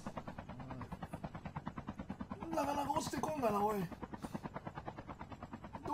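A helicopter in the mobile shooter Call of Duty Mobile, during a battle royale squad match, gives a steady rhythmic rotor thumping that runs throughout while someone talks over it.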